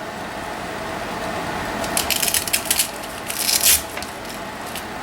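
A sander works over a crooked pallet wood board, a continuous abrasive hiss with gritty scraping bursts as the pad bites into the uneven surface.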